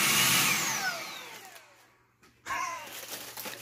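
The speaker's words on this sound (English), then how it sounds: "what 19-year-old doesn't want a shark Hoover?" A Shark handheld vacuum cleaner whirs loudly and steadily, dips almost to silence around the two-second mark, then starts up again with a rough, buzzing roar, close by with no voices.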